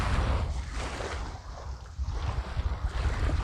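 Beachside outdoor ambience captured on a budget cardioid shotgun microphone, with steady wind buffeting and rushing surf waves forming a dense, continuous roar, no voices.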